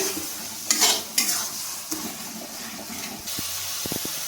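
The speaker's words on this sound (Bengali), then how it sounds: "এবার আমি মশলাটাকে ভালোভাবে কষিয়ে নেব" Masala with tomato for chicken being stirred and fried in a pan, with bursts of scraping and hissing sizzle over a steady frying hiss, a few sharp utensil taps near the end.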